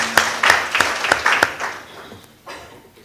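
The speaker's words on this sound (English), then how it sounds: "Can we give him a round of applause," A conference audience breaks into scattered clapping, a handful of sharp claps close together over about a second and a half before the applause thins out and fades.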